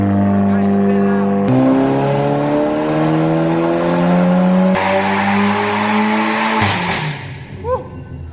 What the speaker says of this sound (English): That's a snap crackle pop of a DSG part.